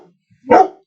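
One sharp dog bark, close and loud, standing alone in near silence.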